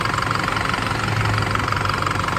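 A used Isuzu D-Max 2.5 diesel pickup idling, a loud, steady close-up engine rumble with an even ticking clatter throughout.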